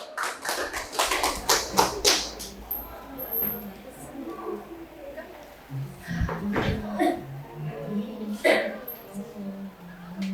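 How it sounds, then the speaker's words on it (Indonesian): An audience at a gathering on Acehnese oral tradition claps for the second group, a scattered burst of hand clapping near the start that thins out, followed by quieter background noise and a few taps and voices. "Boleh beri tepuk tangan yang meriah untuk kelompok kedua"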